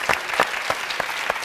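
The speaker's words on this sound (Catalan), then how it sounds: "Un fort aplaudiment, moltíssimes gràcies." A short burst of audience applause in a television studio, close, crisp claps with a few sharper individual hand strikes standing out over the dense clapping.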